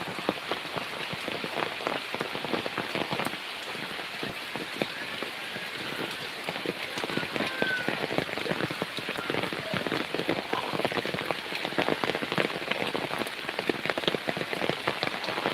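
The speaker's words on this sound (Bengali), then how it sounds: "প্রচুর বৃষ্টি যে" Heavy rain pours steadily on a farm throughout, a dense, constant hiss of drops striking surfaces, loud and close with no pauses.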